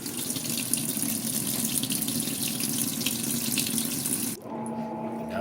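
A Whirlpool Cabrio WTW7000 washing machine fills its tub with water, a steady broadband rushing gush that runs loud and continuous for over four seconds before cutting off abruptly, leaving a quieter low hum.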